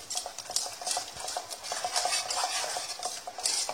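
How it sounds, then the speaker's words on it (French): A sauce for turkey-stuffed cornets is stirred briskly with a utensil in a pan, giving quick rhythmic scraping and light clinking strokes, close and alone. "Je mélange la sauce"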